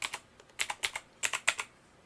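Keys clatter on a basic Battletron gaming keyboard from Action, in close, quiet bursts of several quick strokes separated by short pauses, with no voices.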